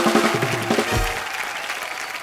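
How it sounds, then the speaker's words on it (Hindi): Studio audience on The Kapil Sharma Show greeting guests with loud applause, dense continuous clapping that fills the room, with a low musical sting fading underneath in the first second. "जोरदार तालियों से स्वागत।"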